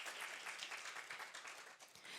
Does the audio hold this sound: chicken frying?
no